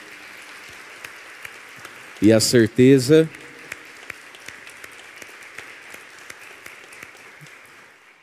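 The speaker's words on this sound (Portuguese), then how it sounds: "Eu quero uma salva de palmas para o Danilo," A church congregation applauds a man and his wife, a soft, steady patter of clapping heard at a distance beneath a nearby voice speaking briefly.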